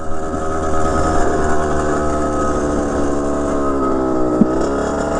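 A 2007 Kawasaki KX 100 dirt bike engine runs loud and close while riding a trail, a steady high-revving two-stroke drone with shifting pitch throughout and a brief sharp blip near the end.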